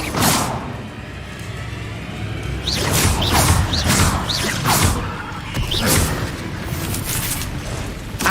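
Fire spell bursts in the video game Hogwarts Legacy, a run of whooshing blasts with booming impacts echoing through a cave maze, several in quick succession over steady game ambience.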